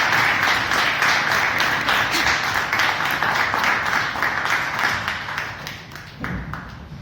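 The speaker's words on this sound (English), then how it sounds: "Please welcome with a big round of applause Toastmaster Padmapani." Audience applause at a Toastmasters meeting welcoming a speaker, dense steady clapping from many hands filling the room, fading slightly toward the end as a voice begins.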